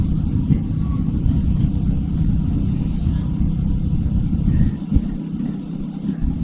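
Steady engine drone and road rumble from a motorcycle cruising along the JNPT highway on a weekend ride to Alibag, loud and continuous with wind noise, no speech.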